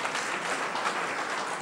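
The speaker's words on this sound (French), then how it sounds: "Applaudissez donc les organisateurs" Audience at a training seminar in Abidjan applauding the organisers, a steady wash of many hands clapping at moderate distance, dense and even throughout with no voices over it.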